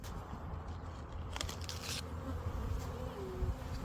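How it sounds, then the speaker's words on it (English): Bees buzz densely and close by around a hive on a ranch, a steady swarming hum with faint rustling and a few soft knocks, no talking. "All the bees buzzing around your head."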